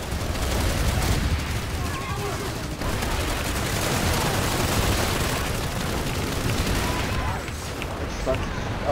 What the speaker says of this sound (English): Now the scythe is shooting.